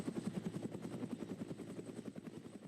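A police helicopter hovers overhead above a residential neighbourhood, its rotor chopping in a steady, fast pulsing rhythm at a moderate distance, alone without voices.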